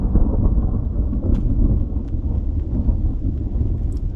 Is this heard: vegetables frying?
no